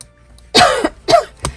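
Three dry coughs from one person nearby during a fabric-folding craft session, the first two longer and hacking, the last short and sharp, with quiet pauses between.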